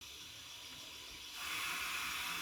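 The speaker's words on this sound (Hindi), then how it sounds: "पानी हमारा उबलना स्टार्ट हो गया है।" Steady hissing, bubbling noise of water boiling in a pot for cooking rice, growing noticeably louder and brighter about halfway through and continuing without a break.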